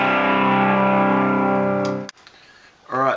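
Distorted electric guitar tuned to D standard with the low string dropped to C rings out loud and sustained through an effects unit for about two seconds, then cuts off to near silence before a short new chord enters.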